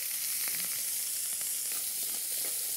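Beef sears in a hot pan with a bright, constant sizzle and crackle, close and steady, with occasional small pops and no talking.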